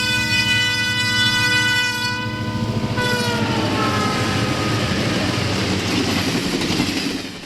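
A combined Empire Builder–North Coast Limited passenger train passes through Hinsdale, Illinois in 1970, sounding a long, loud multi-tone horn over steady rumbling wheels that continue close and heavy after the horn fades.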